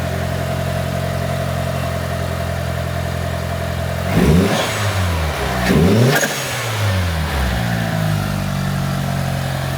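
Mitsubishi EVO 7 with a newly installed intake idles steadily, then blips its engine in two sharp revs before settling back to a loud, close idle with a brief third rise.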